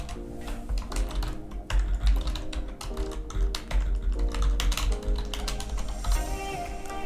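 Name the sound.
typing a description on a computer keyboard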